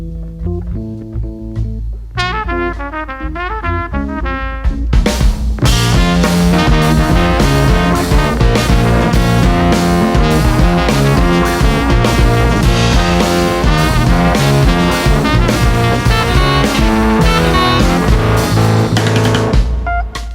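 A jazz band jumps into its loud opposite-dynamics cue: a quiet, sparse opening swells after a few seconds into a full, dense ensemble passage that stays loud and driving to the end, with no talking.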